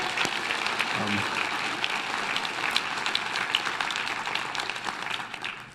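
Audience applause fills a conference hall during a recovery-themed talk, a steady wash of clapping that holds through the clip at moderate level with faint voices mixed in.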